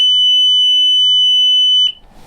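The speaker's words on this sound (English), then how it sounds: "when the water builds up and gets to a higher level, it will send this alarm off" A narrowboat's bilge high-water alarm sounds as a loud, steady electronic tone held for nearly two seconds before cutting off abruptly, leaving faint background noise.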